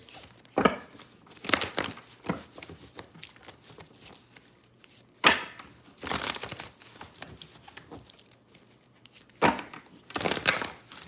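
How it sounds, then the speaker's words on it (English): Sharp bursts of cards being riffled and shuffled, several separate flurries with quiet pauses between, close up and without voices. "Few more shuffles here."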